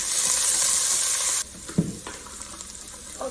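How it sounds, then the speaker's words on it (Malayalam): Capsicum hits hot oil in a pan for chilli chicken, giving a loud sizzling hiss that drops suddenly to a quieter crackle, followed by a couple of knocks and stirring scrapes. "ഇതിനകത്തേക്ക് ക്യാപ്സിക്കം ഇട്ട് കൊടുക്കാണ്."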